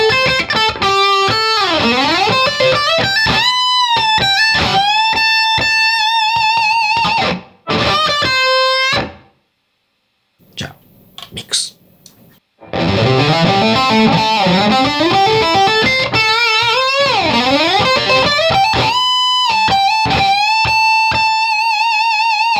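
Distorted electric guitar from a Yamaha Revstar, loud chords and sustained ringing notes in two long passages, broken by a short pause and a few quiet scratchy sounds, with no talking.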